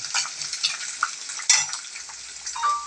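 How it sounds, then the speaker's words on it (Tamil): Garlic sautés in oil in a kadai as a utensil stirs it, giving short scraping and sizzling bursts with light metallic clinks over about three seconds, close and with no voices. "பூண்டு கொஞ்சம் நல்லா வதங்கணும்."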